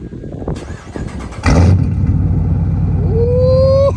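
Dodge Challenger RT with 5.7 Hemi and Stainless Works long tube headers cranking over, then catching with a loud bark and settling into a deep, lumpy idle, with a whine rising near the end.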